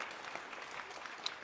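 A canned applause sound effect plays on a podcast, a steady wash of crowd clapping, faint and even throughout with no voices.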